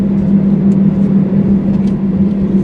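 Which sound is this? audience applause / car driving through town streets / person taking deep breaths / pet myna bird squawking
car driving through town streets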